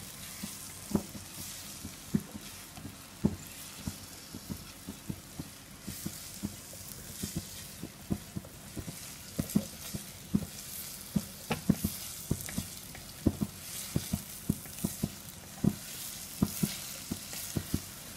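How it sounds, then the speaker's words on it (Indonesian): Chopped onions and bombay onions sautéing in a pan for lasagna, a steady close sizzle and fry broken by frequent sharp clicks and scrapes of a spatula stirring, with no talking. "Kemudian kita tumis sampai bawang-bawang tersebut mengeluarkan aroma harumnya"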